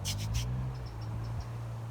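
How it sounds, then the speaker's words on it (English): Three quick rasping scrapes of builders working across the road sound at a distance, followed by faint high chirps over a constant low hum in a garden. "that noise you can hear are the builders returning to work"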